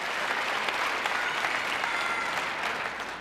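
Sustained applause from a large ice-skating show audience, steady and loud throughout, with clapping blending into a dense wash of sound.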